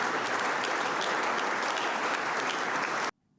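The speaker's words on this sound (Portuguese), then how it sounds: "a viúva foi aplaudida de pé por todos os presentes" Dense standing ovation from a full room, honouring Alexei's widow after her speech, loud and continuous for about three seconds before cutting off abruptly into near silence.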